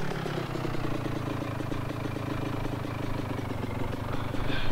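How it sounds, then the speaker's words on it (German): An off-road motorcycle engine in Operation Flashpoint runs with a continuous mid-pitched drone and slight clatter, steady and close throughout, rising a little at the end, with no talking. "Mein super geländegängiges Motorrad hier."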